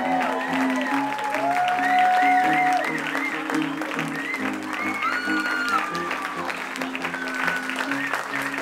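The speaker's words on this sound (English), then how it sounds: "Please keep your applause going for our newlyweds" Wedding guests keep up sustained applause for the newlyweds, dense and steady clapping that fills the room while a loud voice carries over it and music plays underneath.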